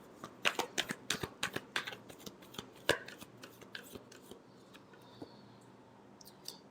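Tarot cards being shuffled by hand in a quiet room: a burst of crisp, rapid riffling slaps and flutters up close, easing into softer scattered card flicks and sliding.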